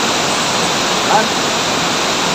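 Lourdes Falls, a waterfall in Barangay Nara, Bayawan City, pours as a steady, loud rushing roar, with a brief spoken word partway through.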